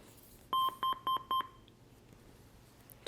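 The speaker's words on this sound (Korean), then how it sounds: "여기 소리 4번 삐삐삐삐 소리 났고요" An educational Albert robot gives four short, evenly spaced electronic beeps in a quick row, clear and close, followed by quiet room tone.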